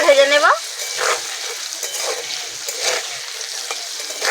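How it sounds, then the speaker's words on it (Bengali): Diced potatoes fry in oil with salt and turmeric, a steady close sizzle with stirring scrapes throughout, preceded by a brief high whistle-like tone at the very start. "হলুদ আর নুন দিয়ে আলুটাকে লাল লাল করে ভেজে নেব।"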